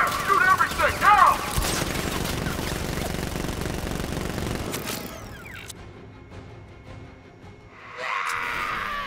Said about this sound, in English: Go on! Open fire! Shoot everything! Now!